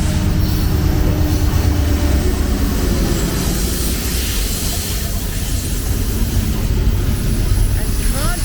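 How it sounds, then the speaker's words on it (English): A BNSF freight train rolls past in Fridley, a loud, steady roar of wagons and wheels with occasional squeals, filling the whole stretch close by without pause. "I'm in Fridley making videos of BNSF trons"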